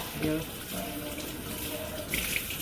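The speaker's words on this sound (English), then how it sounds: "And wash your vegetables," Vegetables being washed under a running kitchen tap while Jamaican brown stew fish is prepared, a steady splashing water stream at close range with brief faint background voices.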